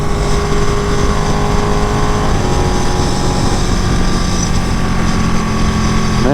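Ducati 959 Panigale motorcycle engine while riding, held under 6,000 rpm during break-in with a quick shifter fitted. A loud, steady engine drone with wind rush runs the whole way through, and the pitch shifts slightly partway.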